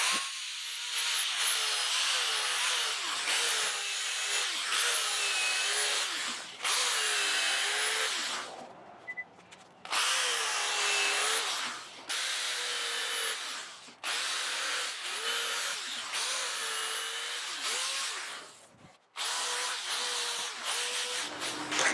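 A drill fitted with a 5-inch sanding disc sands a guitar body with a loud, steady whine and gritty abrasive hiss. It runs in repeated passes that stop briefly and start again, with short pauses between bursts.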